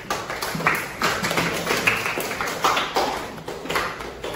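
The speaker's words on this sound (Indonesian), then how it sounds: "Silakan kembali beri tepuk tangan" Classmates clap in a classroom after a student presentation, an uneven scatter of hand claps and taps running steadily throughout, moderately close with light room echo and no talking.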